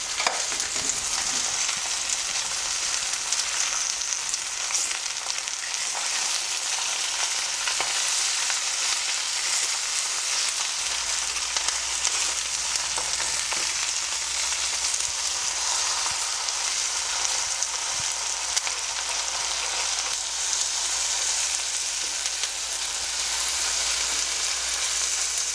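Gongura leaves fry in a pan for a steady, continuous sizzle, with faint scrapes of stirring now and then, close and even throughout with no voices.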